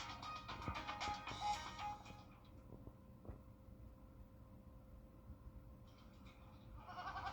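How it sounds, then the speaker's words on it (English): Goats in a TV advertisement bleat a few times early on, fairly close and under soft music, then fade into quieter background with a brief sound near the end. "What's with all the goats?"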